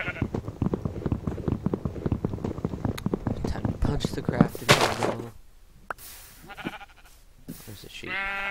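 Minecraft sheep bleating amid game sounds, with someone talking over most of it; a few short bleats come through near the end.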